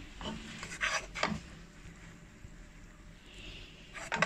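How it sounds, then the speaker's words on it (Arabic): A utensil scrapes and stirs flour around a pot for béchamel sauce for macaroni, giving a few short rasping strokes and clinks in quick bursts with quiet pauses between them, close and moderately soft. "هنبدا نقلب في الدقيق لحد ما ياخد اللون الذهبي اللي انتوا عارفينه"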